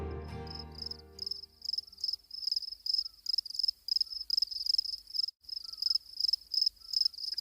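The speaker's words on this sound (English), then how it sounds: "Crickets." Crickets chirp in steady, rapid pulses, a high trilling repeated over and over against an otherwise quiet background.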